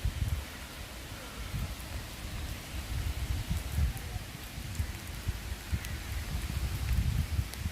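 Heavy rain pouring steadily outdoors in Sweden, a dense continuous patter with low rumbling underneath, no voices.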